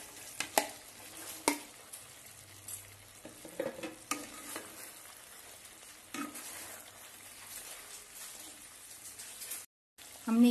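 Fried cauliflower is stirred into chilli sauce in a pan for restaurant-style chilli gobi made without onion or garlic, with soft sizzling, scattered spoon scrapes and clicks, and a few louder knocks, heard fairly quietly.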